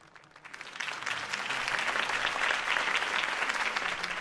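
A crowd applauds at a campaign rally for Harvey Dent in the Batman Telltale video game, the clapping swelling over the first second into a loud, dense, sustained ovation.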